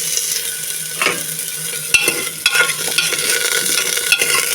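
Red lentils, onion and potato pieces fry in a pot with very little oil, making a constant sizzle with repeated clattering stirs and scrapes close by.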